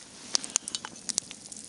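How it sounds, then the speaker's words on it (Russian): Hazel grouse soup bubbling in a pot over a barrel fire outdoors in the taiga, a soft sizzling bed broken by scattered sharp pops and crackles at an irregular rhythm, close and moderately loud, with no speech. "О, хорошо кипит."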